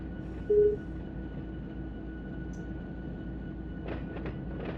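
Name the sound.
freight train moving at yard speed, Run 8 video game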